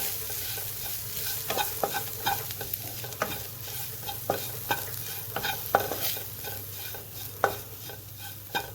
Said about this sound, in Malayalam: എന്നിട്ട് നന്നായിട്ടൊന്ന് ഇളക്കാം മിക്സ് ചെയ്യാം ഇത്